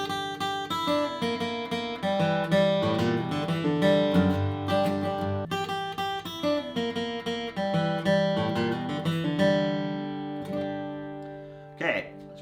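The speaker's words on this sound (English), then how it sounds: "You could also end it with a G run." An acoustic guitar plays a bluegrass ending lick finishing with a G run, with bright picked notes and strummed chords continuing steadily before a final ringing close, alone and up close.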